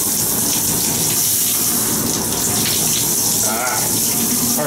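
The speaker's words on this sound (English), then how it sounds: "That's a lot of water." Shower water pours steadily in a Sleep Inn hotel bathroom near Norfolk Airport, a loud continuous broadband rush and splatter that runs unbroken from start to finish.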